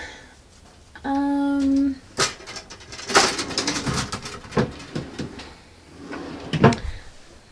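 A makeup drawer slides open and shut at close range, with clattering knocks of palettes and contents shifting inside and a brief squeaky tone just before.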